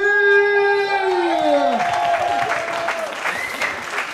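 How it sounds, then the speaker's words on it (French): A crowd under a tent at the Guinguette in Cergy applauds slam poet Saphir as she is introduced; a sustained voice tone glides down and fades, then broad clapping takes over. "Mesdames, Messieurs, un tonnerre d'applaudissements pour la dame que l'on nomme Saphir."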